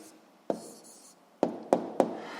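A pen or chalk strikes and scratches on a surface in four sharp taps with a brief scribble between them, close and fairly quiet, as an answer is written by hand during a physics lesson.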